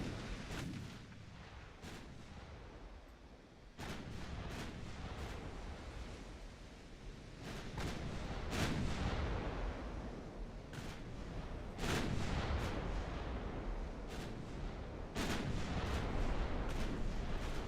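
Heavy naval guns in the Ultimate Admiral Dreadnoughts warship battle boom again and again, with sharp cannon blasts and shell impacts landing at irregular intervals over a constant roar of wind and sea.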